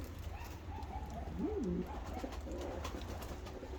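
A Japanese female pigeon gives a soft, close coo, a short rolling call heard once over a low steady background hum in an indoor loft.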